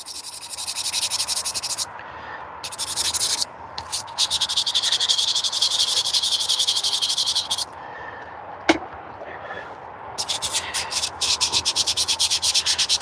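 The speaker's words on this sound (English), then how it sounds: "this automotive sandpaper, it cuts so nice" Automotive sandpaper scrapes a surface in close, rhythmic strokes, pausing briefly between bursts, with one sharp tap partway through.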